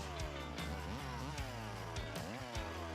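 An old antique Stihl 020AV top-handle chainsaw with a 12-inch bar and full chisel chain runs close and loud, its engine pitch repeatedly rising and falling as it revs.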